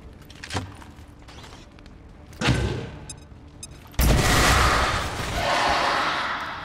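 Grenade explosions and gunfire in the video game XCOM 2: a sharp blast, then a second, heavier detonation that rolls into a long, loud rumble and debris noise.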